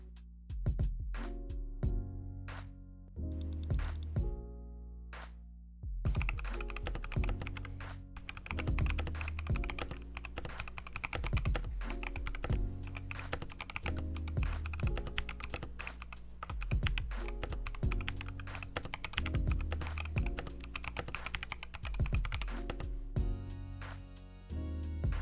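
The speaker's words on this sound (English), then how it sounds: "I think you guys are deserving of a sound test." Typing on a custom mechanical keyboard: crisp, close clacks come in quick bursts and runs, with short pauses between flurries and an occasional heavier thock, no voices.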